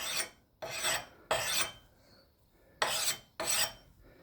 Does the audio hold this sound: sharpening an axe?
yes